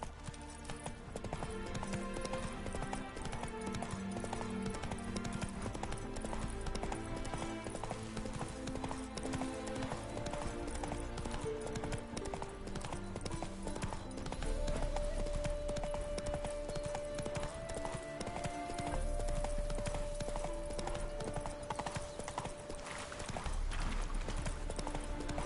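Horse hooves galloping in The Witcher 3 video game, a steady rapid clip-clop running continuously alongside game music and ambience, with a brief whinny-like sound.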